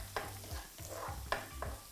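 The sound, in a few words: garlic and chilies stir frying in coconut oil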